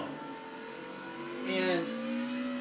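Race car engine in Assetto Corsa droning at steady revs, then rising and swelling louder midway before settling into a higher held tone, with a talking voice faintly underneath.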